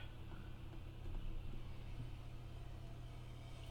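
A car rumbles past at steady volume, a low continuous engine and road drone with a slight swell partway through, no voices.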